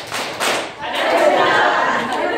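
A group at a Korean laughter-therapy and singing instructor class claps in unison, a few sharp bursts of hand claps close by, mixed with some voices and a brief lull between.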